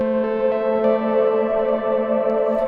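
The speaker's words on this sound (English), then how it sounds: "the distortion will distort that, which will sound even more distorted, like you hear now" Sustained tone pushed through a compressor and then a distortion plugin, producing a dense, harmonically rich, heavily saturated sound with steady loudness and faint echo-like smearing, running continuously without any voice.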